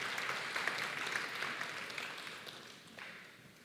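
A conference audience at a church annual business session applauds the bishop, steady crowd clapping that fills the room and slowly tapers off, with no voices over it.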